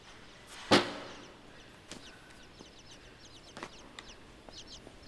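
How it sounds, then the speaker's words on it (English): Chicken-like birds clucking in the dark puzzle-platformer Inside: one loud close squawk near the start, then a scatter of soft, quick chirps and clucks from several birds in a quiet outdoor scene. "Birds, not chicks."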